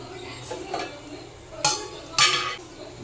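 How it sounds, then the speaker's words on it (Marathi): Pot lid set onto a pan of jaggery sheera with dry fruits, two close metallic clinks with small clatters before them, fairly quiet in a kitchen. "2 मिनिटं झाकण ठेवून घेऊया।"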